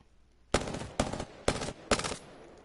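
Four evenly spaced bursts from the Prowler burst gun in a video game, each a sharp, loud cluster of rapid shots separated by short silences.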